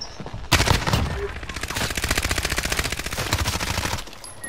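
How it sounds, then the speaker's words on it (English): Rapid video-game gunfire as a magazine is emptied in one long burst, dense fast shots running about three and a half seconds, loud and close, with faint background voices. "Mag dump."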